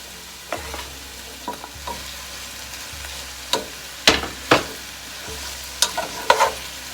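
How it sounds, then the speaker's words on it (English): Onions and peppers frying in a pan with browned brats, a continuous low sizzle broken by sharp scraping and clattering stirs, a handful of distinct knocks spread over several seconds. "All the onions and peppers are going to go in."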